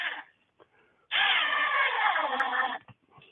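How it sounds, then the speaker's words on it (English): A power drill whirs for about two seconds in a cold workshop, a single steady buzzing run close by, framed by brief quiet handling noises. "Some more screwing. Some more drilling."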